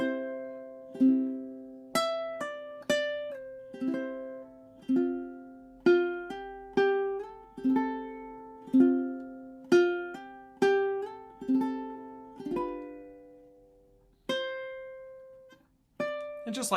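A ukulele plays a short embellishment etude, plucked melodic notes in a steady phrase with slides and hammer-ons between them, close and clear with no voice over it.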